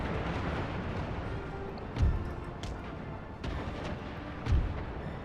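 Warship guns firing on an enemy in a naval battle video game, two deep booming shots a few seconds apart over a constant rumbling battle ambience, with no talk.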